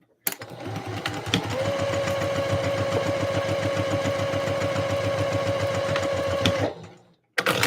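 A home sewing machine stitches Christmas dress fabric in one steady, loud mechanical run of rapid needle strokes, starting and stopping abruptly with a brief gap before a final burst.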